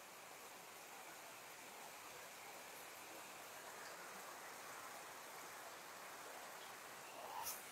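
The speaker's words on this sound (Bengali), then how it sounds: "হ্যাঁ বৃষ্টি হচ্ছে ভাই," Heavy rain falls steadily during flooding in Chhatak, making a constant dense hiss with no break, and a faint brief knock comes near the end; nobody speaks.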